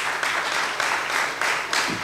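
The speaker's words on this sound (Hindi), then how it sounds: "जोरदार तालियां खुदा के जलाल के लिए।" A church congregation claps together in rhythmic waves, with steady bursts of applause rising and falling every half second or so, fairly close and full.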